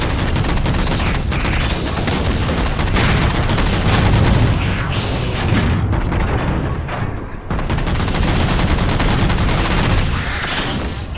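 Dense, loud automatic gunfire in Halo 4 as jammers are shot down, continuous rapid bursts with heavy booms layered throughout, barely easing for a moment near the end.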